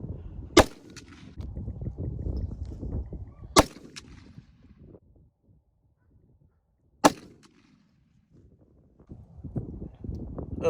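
Three sharp rifle shots from a PSA AR10 in 6.5 Creedmoor firing 129 grain Herters ammunition for grouping, evenly spaced a few seconds apart, each a loud crack with a short decaying tail over low background rumble.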